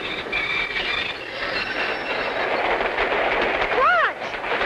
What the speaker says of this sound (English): It looks like the train has stopped.